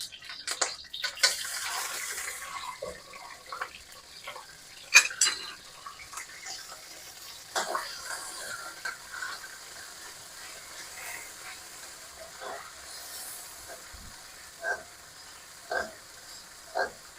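Coconut milk fat frying in a hot wok set on a grill gives a soft, steady crackle, with a few sharper clinks and spatters scattered through it.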